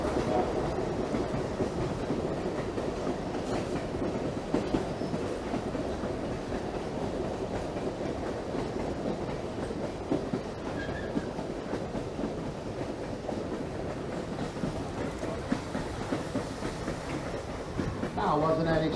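Aboard the Lehigh Gorge Scenic Railway, a moving train gives a steady, fairly quiet rumble with faint clickety-clack of wheels over rail joints, continuous throughout with no voices over it.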